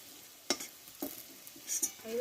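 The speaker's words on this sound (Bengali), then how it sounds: "বাকিগুলো আমি একইভাবে ভেজে নিলাম কত সুন্দর ভাজা হয়ে গেলে" Quiet frying in oil with a soft background sizzle, punctuated by several sharp clinks and scrapes of a utensil against the pan.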